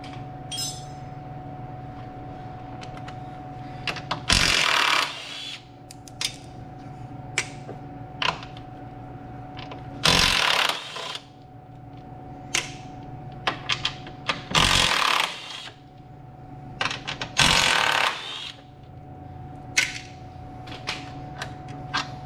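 Bolts are worked loose from the front suspension arm of a 2015 Polaris 800 during a KMOD suspension install, with several loud bursts of tool noise and creaking metal between quieter stretches of handling.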